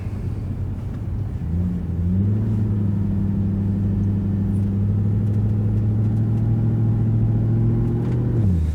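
Mercedes C63 engine held around 1500 RPM, a loud, deep, steady rumble recorded close up that rises slightly in pitch early on and holds evenly before dipping at the end.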